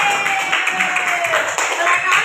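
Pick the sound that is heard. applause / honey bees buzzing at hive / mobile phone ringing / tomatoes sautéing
applause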